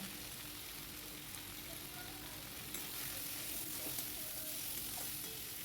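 Ground spices and tomato frying in hot oil make a steady, faint sizzle that continues throughout, with no voices.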